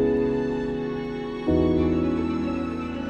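Processed strings with filtering, compression, saturation and a Spaced Out plugin hold a warm, dense sustained chord that shifts to a new chord partway through, smooth and close.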